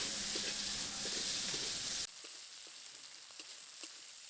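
Shrimp frying in oil with salt and turmeric powder, a loud steady sizzle that suddenly drops to a quieter crackle with occasional stirring clicks.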